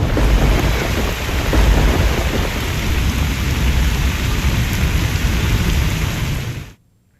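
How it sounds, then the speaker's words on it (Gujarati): Heavy rain pouring down during a thunderstorm, a dense loud roar of rain with deep rumbling underneath, continuous until it cuts off abruptly near the end. "તો હવે વાત મેઘતાંડવની."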